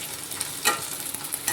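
Onions browning in hot oil give a steady broadband sizzle with scattered crackles and a brief louder stir-scrape near the middle, close and moderately quiet with no talk.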